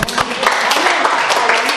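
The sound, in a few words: congregation applause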